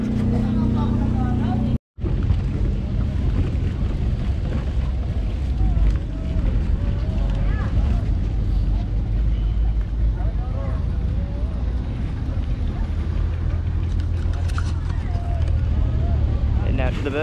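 Boat ride on a tour in El Nido, the Philippines, with a loud, steady motor drone and rushing wind buffeting the microphone, broken by one brief cut, while voices talk over the engine.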